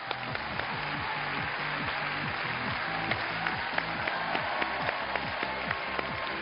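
A studio audience on a Chinese variety show applauds to welcome a guest's wife and daughter, a dense, steady wash of clapping with some sharper individual claps, moderately loud and without talk.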